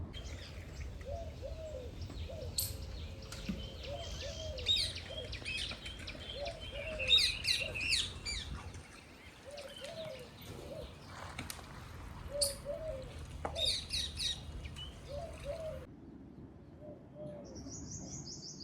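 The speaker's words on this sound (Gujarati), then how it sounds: "જો લીમડાના થળિયા પાસે પોપટ બેસી ગયો" A parrot calls near the base of a neem tree in a Botad village, with repeated short squawks and higher chirps scattered over steady outdoor background noise, fairly close and moderately loud.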